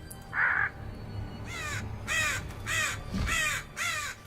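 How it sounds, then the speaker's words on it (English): Crows caw five times in a steady rhythm, harsh and moderately near, after a brief tonal beep at the start. "Lots of crows."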